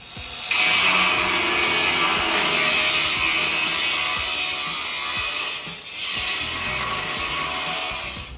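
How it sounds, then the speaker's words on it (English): An angle grinder cuts through a Haynes Roadster steel chassis, a loud continuous high whine and grinding rasp that runs almost unbroken for several seconds with one brief dip, close by and with no talk. "The chassis that you see being cut up is a Haynes Roadster chassis."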